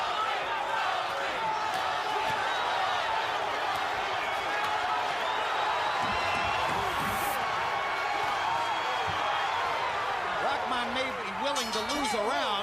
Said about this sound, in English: Crowd is starting to chant Toney,